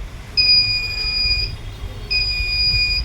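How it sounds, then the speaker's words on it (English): An electronic buzzer on a burglar alarm project sounds in two steady, high-pitched beeps, each lasting about a second, with a short pause between them over a low background hum. "it detects, showing two lights and making a buzz sound, as you can hear it"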